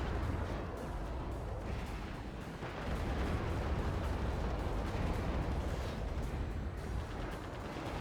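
Artillery rockets strike in the real-time strategy game Act of Aggression, a dense, continuous barrage of booming impacts and rumbling blasts, fairly faint, with no voices.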